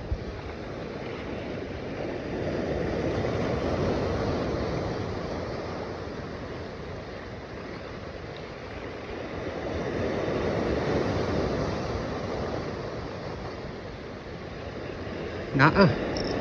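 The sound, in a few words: strong sea waves crashing on shore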